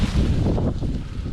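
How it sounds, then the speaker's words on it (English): Gusty wind buffets the microphone across an open North Dakota field on an early-season pheasant hunt, a dense low rumble that stays loud and steady for the whole moment with no voices. "Ended up being a pretty windy afternoon."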